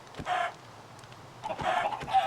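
Two short bursts of Minecraft chicken clucking, a hen's choppy squawks, separated by a pause, over a faint low background hum.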